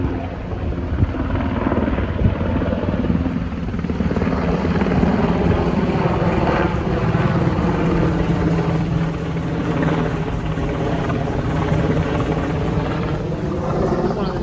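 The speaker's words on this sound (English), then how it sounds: "One of the Navy helicopters." A Navy helicopter flying overhead near Atlantic Beach, its rotor and engine drone loud and steady throughout with a constant rumbling wash and wind buffeting the microphone.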